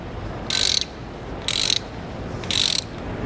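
A ratchet wrench tightening U-bolts on a motorhome steering stabilizer install: three short, loud bursts of rapid clicking, evenly spaced about a second apart, with quiet pauses between.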